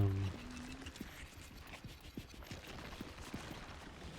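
Footsteps in high heels from The Evil Within, a steady series of sharp clicks and clacks spaced about a third of a second apart, moderately loud over a quiet background.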